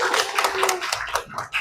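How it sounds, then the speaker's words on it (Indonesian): Classroom students clapping for a group representative, a short, scattered burst of hand claps of uneven rhythm that thins out quickly, with a voice and chatter mixed in. "Tepuk tangan untuk perwakilan kelompok Yusuf."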